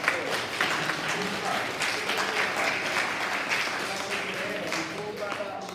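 A school assembly crowd applauds a pupil, thick continuous clapping from many hands filling the hall, loud at first and easing slightly toward the end.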